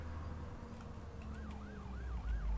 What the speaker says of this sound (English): Oops, that's a siren.